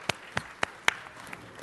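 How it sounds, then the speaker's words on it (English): A few sparse, separate hand claps from the audience at a city council meeting, roughly four quick claps spaced over under two seconds, fairly faint with a quiet room behind. "Let's give them a round of applause."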